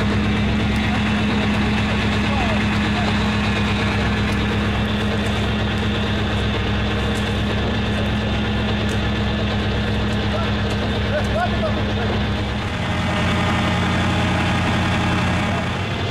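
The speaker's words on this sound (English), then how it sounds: "Winching." A Soviet military off-road truck idles with a low, steady rumble while it winches, its heavy engine note holding loud and continuous and shifting slightly near the end, with voices talking over it.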